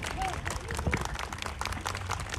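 Audience applause fills a concert hall at a Polish spring-welcome community concert, a dense steady patter of clapping throughout with a voice speaking over it.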